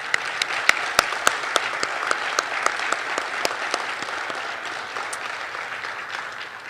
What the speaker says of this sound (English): Please join me in a round of applause for all the deserving nominees.